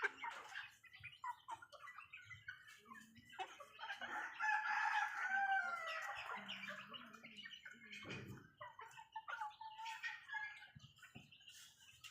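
Village chickens and a rooster in a rural Lao farmyard, the rooster crowing loudly near the start and middle among scattered clucks and chirps, with no talk.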